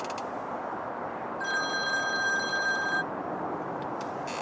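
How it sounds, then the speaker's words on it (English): A telephone rings once late at night beside a lake during a November fishing trip, a bright electronic trill lasting about a second and a half over steady outdoor background noise. "The phone goes."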